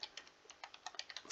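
Light, quick keystrokes on a computer keyboard, a dozen or so soft clicks in an uneven run, quiet and close with no voice.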